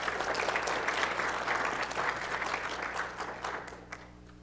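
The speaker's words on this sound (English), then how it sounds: "Let's give a round of applause for Celiac Awareness Day" An audience at a city council meeting applauds, a dense sustained round of clapping from many hands that fills the room and gradually thins out toward the end.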